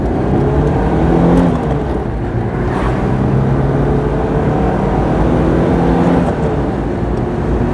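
A Citroen GSA engine runs and revs, a steady mechanical whir with rising and falling pitch close by, loud and alone.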